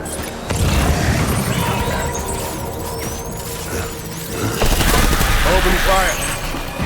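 Dense gunfire from the video game Death Stranding, sustained bursts and booms with mechanical clatter filling the whole stretch, loud and continuous with a swell near the end.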